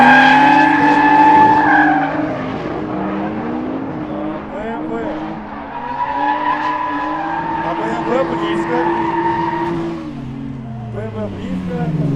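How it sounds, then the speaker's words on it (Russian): Toyota Chaser and BMW drifting in tandem, tires squealing and skidding in long sustained screeches over revving engines, loud and continuous, with a commentator talking over the action. "Чайзер едет первым, БМВ по узенькой такой траектории, и он догоняет."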